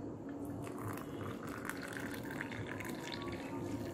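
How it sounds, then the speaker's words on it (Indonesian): Hot water poured into a cup of Indocafe Coffee Mix sachet coffee, a steady soft gurgling stream that runs continuously and fairly quietly, with no speech. "langsung aja kita tuangin airnya guys"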